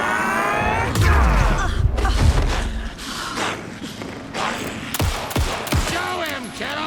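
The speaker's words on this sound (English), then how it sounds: "Shoot him to pin him down." Game gunfire in Alan Wake 2 comes in bursts of sharp, loud shots layered with booming impacts and effects, while voices call out over the combat.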